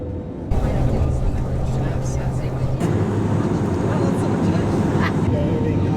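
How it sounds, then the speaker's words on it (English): Steady loud cabin roar of an airliner on a short flight to Heathrow, England, a broad continuous drone that rises a step partway through, with voices talking under it. "Now for a short flight to Heathrow"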